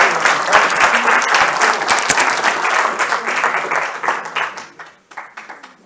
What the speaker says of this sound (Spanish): Un aplauso para Mónica